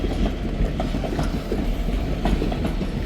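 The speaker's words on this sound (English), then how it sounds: "Here's the train." White Pass & Yukon Route train arriving in Skagway, Alaska, a steady rumble of rolling railcars with faint clicks of wheels on track, continuous and moderately close, with no talking.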